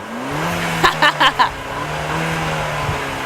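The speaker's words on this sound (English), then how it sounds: "That's some American turbocharging right there" A 2014 Ford Fiesta ST hot hatch with a 197-horsepower turbocharged engine holds a steady, close engine drone, broken early on by a few short, sharp bursts as it revs.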